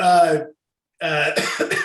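A harsh cough bursts out, then after a short pause a second rougher run of coughing and throat clearing follows, loud and close.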